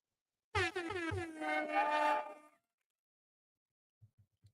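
A single loud, blaring air horn blast sounds for about two seconds, followed by a few faint low thumps.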